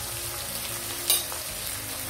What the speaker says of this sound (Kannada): ಈಗ ಚೆನ್ನಾಗಿ ಫ್ರೈ ಮಾಡ್ಕೊಳ್ಳೋಣ ಎಣ್ಣೆಯಲ್ಲಿ.